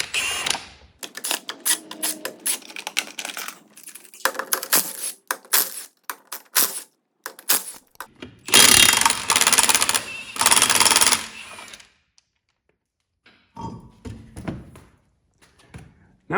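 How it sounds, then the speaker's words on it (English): Hubcap and steel lug nuts being removed from a Chevrolet HHR wheel with a 19mm socket, heard as bursts of loud rattling impact-wrench hammering between clicks, taps and metallic clinks, with pauses and no talk. "using your 19mm, we're going to go ahead and remove the hubcap and then remove the steel lugs"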